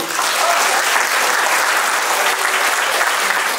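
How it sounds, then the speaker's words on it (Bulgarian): A crowd applauds steadily at a cake art awards ceremony, dense clapping filling the space at an even, loud level throughout. "Той заслужава и аплодисментите ви."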